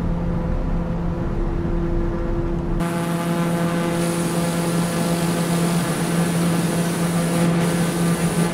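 A Lear Fan 2100 in Microsoft Flight Simulator 2020 drones with a loud, steady turboprop engine tone that shifts abruptly early on, then holds a constant hum with sustained whine.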